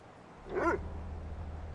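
A single short dog bark or yelp from a puppy in The Killing Stone game, rising and falling once near the middle, moderately loud over a steady low background hum.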